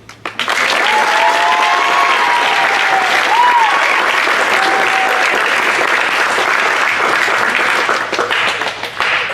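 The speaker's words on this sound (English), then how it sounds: "I'd like to give her a clap for being the state runner-up" A large crowd at a high school athletic awards night applauds a state runner-up athlete, loud sustained clapping filling the room nearly throughout with a few faint whoops, then tapering slightly at the end.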